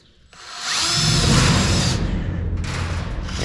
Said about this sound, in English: that's screwing down the flashing to the floor.